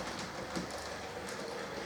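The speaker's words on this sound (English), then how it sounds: "Light will go green as we show now, so it can pass on through the station and pass the stop train" A model goods train rolls through a model railway station on modular track, a steady low rumble with faint clicking wheels, soft and continuous.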